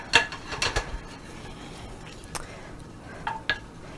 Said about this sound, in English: Actually, just gonna stir it all around.